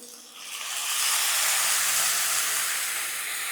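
A small splash of water hits hot onions and tomatoes in a pan and bursts into a loud, steady steam hiss that swells within a second and holds, fading slightly toward the end.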